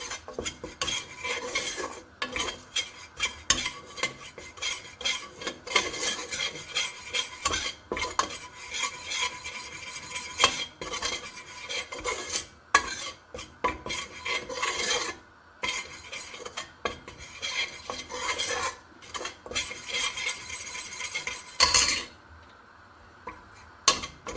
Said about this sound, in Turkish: Şimdi un kavuruyorum arkadaşlar. Çorba için.